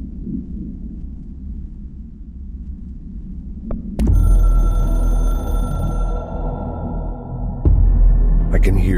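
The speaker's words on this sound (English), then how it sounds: "I can hear the hotline ringing in my dreams, constantly ringing." The hotline telephone in the video game Control starts ringing abruptly after a low ambient hum, a loud, sustained, resonant tone that cuts off and then rings again near the end.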